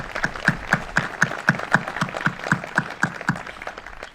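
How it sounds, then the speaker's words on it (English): Clapping for AFJROTC cadets from Chicopee High at a Memorial Day ceremony comes as a steady, even run of about four sharp claps per second that holds throughout. "let's give them a round of applause."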